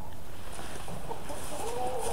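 Chickens cluck softly inside a goat barn during a blizzard, a few short calls over steady background noise.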